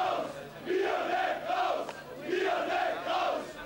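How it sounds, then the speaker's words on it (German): Football fans at an Austrian amateur match between DSG Union Perg and FC Blau-Weiss Linz chant slogans in unison, a rhythmic crowd chant rising and falling in two long waves, loud and steady with no talk over it. "Spruchparolen wie diese waren von den Fans die gesamte zweite Spielhälfte über zu hören"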